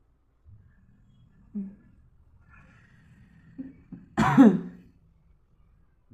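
A few soft grunts and a sharp throat-clearing cough near the end, close by in an otherwise quiet room.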